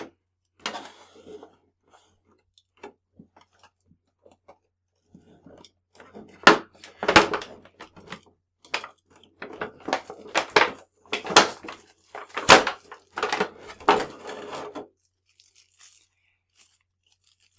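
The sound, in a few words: cutting packaging tape with cutters to open figure box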